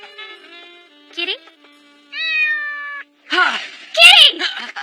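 A cat meows in a few short, wavering cries that rise and fall, mixed with a voice calling out nearby.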